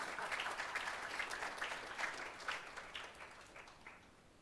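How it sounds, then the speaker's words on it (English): Audience applause at a ceremony, a dense wash of many hands clapping steadily, fairly close and full, thinning gradually toward the end. "And with that, you're supposed to applaud wildly."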